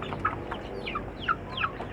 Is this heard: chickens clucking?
yes